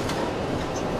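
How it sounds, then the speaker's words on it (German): Tram in Arad rolling slowly over track switches at about 10 km/h, a close, continuous rumble and rattle of wheels on rails with a few faint knocks. "Das sind die Weichen."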